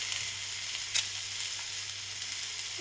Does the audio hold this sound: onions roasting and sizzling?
yes